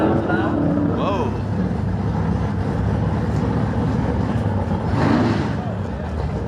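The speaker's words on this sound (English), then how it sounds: "Oh, he was just revving it, okay." A drag racing car engine at a pro mod event revs loudly and steadily through the whole stretch, a continuous dense roar with a brief swell near the end, while a commentator talks over it.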